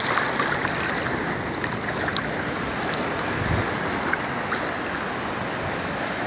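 Atlantic Ocean surf on Varadero beach in Cuba, a steady close roar of breaking waves with heavy wind buffeting the microphone throughout.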